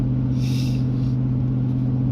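A Chevrolet Tahoe engine, with its exhaust not yet fitted, runs off the throttle with a steady, close, low droning rumble that holds even for the full stretch, with no voices.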